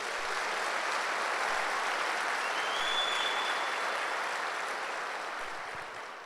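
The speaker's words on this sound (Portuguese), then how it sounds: "Dá um aplauso a Jesus." A church congregation at a Sunday service applauds steadily, a dense wash of clapping that holds even and then eases slightly toward the end.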